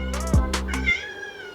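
A kitten meows loudly and close: several short cries run together into one drawn-out meow, then stop, with no talk over them.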